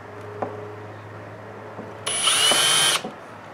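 A power drill whirs into wood for about a second, drilling a pilot hole for a Windsor chair spindle, loud and close, after a few quiet taps and knocks.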